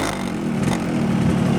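A Yamaha RX King motorcycle fitted with its original exhaust runs close by, a low, steady two-stroke engine note that swells slightly toward the end.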